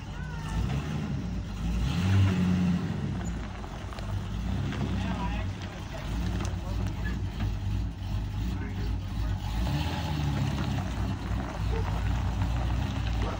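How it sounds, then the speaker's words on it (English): A 1999 Ford F53 RV with a 6.8L engine and freshly rebuilt 4R100 transmission rumbles as it pulls away, a steady low engine drone heard from nearby with some wind. "The RV's moving."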